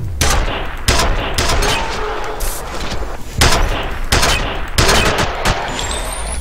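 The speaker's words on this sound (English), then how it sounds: "I'm firing 6-inch nails into their head." Nail gun from the video game F.E.A.R. firing repeatedly, a series of loud, sharp bursts in uneven rhythm over a dense, noisy game background, with no talking.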